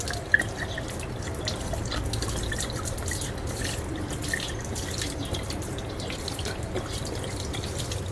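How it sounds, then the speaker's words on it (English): Water pours slowly out of an upended bottle, a close, steady glugging trickle with scattered drips and small splashes that runs on continuously with no voices. "The pouring speed is very slow, taking more than 13 seconds to empty the bottle."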